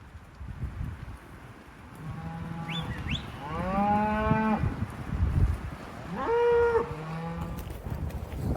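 Several cows moo loudly, long drawn-out calls overlapping one another, with wind and faint rustling in the background, in open desert country in Colorado.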